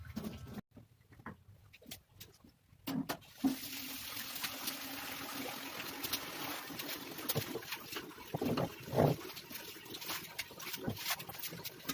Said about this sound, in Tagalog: Tapos buhos muna ng tubig para maalis din yung amoy sa kwarto.